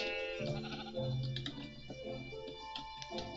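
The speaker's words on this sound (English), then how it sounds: "Oh, sheep." Sheep bleating in Minecraft, a couple of wavering blocky bleats over steady game music, fairly close and clear.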